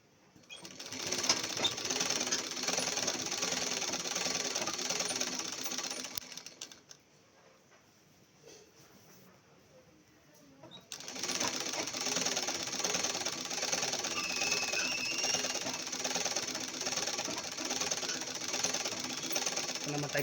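A sewing machine stitches a semi-patiala style chudidar pant, running in a steady, fast mechanical rattle that pauses for a few seconds midway before resuming, close and loud with no talk.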